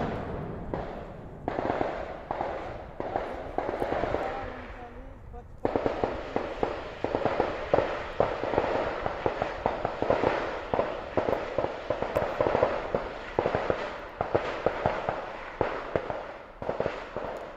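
Rapid, irregular cracks and pops of gunfire in Bijapur, Chhattisgarh, go on throughout, some in quick bursts, heard at a distance over a murmur of background voices.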